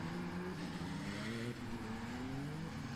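Dallara 326 race cars weave on the formation lap at Jarama, a steady, fairly distant engine drone with rising and falling tonal whines as several cars rev and pass, with no voices.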